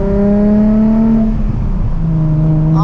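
A 2007 Nissan 350Z with the HR engine revs while driving, its tone climbing and then dropping before rising again, loud and close from inside the car.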